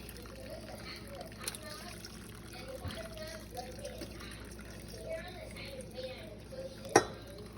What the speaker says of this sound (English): We're going to put that through a sieve and get all that goodness into our gravy.